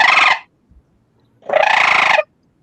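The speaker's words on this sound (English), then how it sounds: "So here's our greater Minnesota birds." Recorded bird calls played back through a speaker, two loud harsh bursts, a short one then a longer one, separated by near silence, strongly resembling turkey gobbles.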